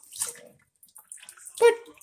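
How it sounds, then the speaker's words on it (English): Tap water splashing in short bursts while dishes are washed, quiet and close, with brief gaps between the spurts and a few faint drips. "Cleaning the dishes."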